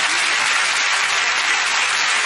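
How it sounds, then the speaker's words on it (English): A television studio audience applauds a guest, a dense, loud, continuous roar of clapping close to the microphone with no voices over it. "give her a round of applause"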